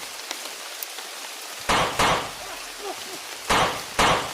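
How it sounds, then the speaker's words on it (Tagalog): Heavy rain pours down in a dense, steady hiss, broken by several loud, sharp bursts that stand out above the downpour. "Malakas yung ulan."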